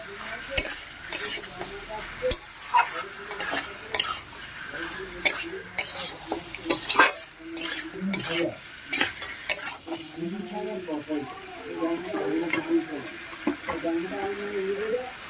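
Meat being stirred in a pan with a spoonful and a half of ginger, sharp scraping clatters of the utensil over steady frying sizzle, close by, with a voice talking intermittently.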